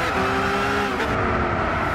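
Race car sliding on a wet track in Gran Turismo 6, a loud engine roar with a brief tire skid as the car loses grip, steady and close with no voices.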